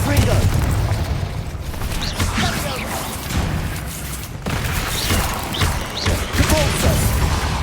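Booming blasts and crashing impacts from fire spells cast in the Hogwarts Legacy game, heavy and continuous, with several thuds and bursts overlapping amid ongoing combat noise and a voice calling out.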